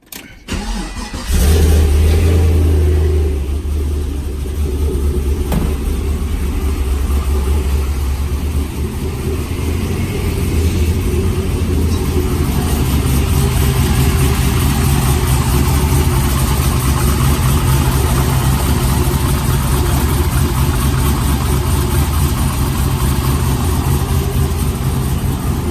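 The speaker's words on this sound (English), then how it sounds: "let's go ahead and start this beast up" A Pontiac GTO engine cranks and fires, then settles into a loud, steady, deep idle that runs uninterrupted and close by, with no talking over it.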